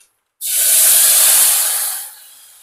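Dal rasam poured into a hot tempering pan erupts in a loud sudden sizzling hiss that holds strong for over a second, then tapers into softer bubbling.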